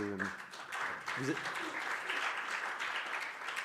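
An audience at a Senate symposium in France applauds, a dense, steady wash of clapping from many hands that fills the room after a brief voice at the start.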